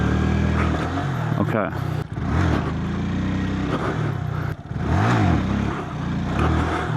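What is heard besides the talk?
8hp motorcycle engine revving during wheelie practice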